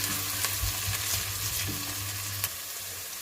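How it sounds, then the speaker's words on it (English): Onions sauté in a pan while being stirred, a dense continuous sizzle punctuated by light scraping and knocking from the spoon. "Saute this well until it's kind of like lightish browny color."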